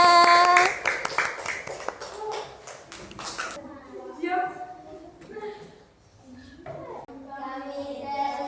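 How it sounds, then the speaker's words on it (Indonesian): A classroom group claps for about three and a half seconds, loud and close, before students begin speaking. "Tepuk tangan untuk kelompok"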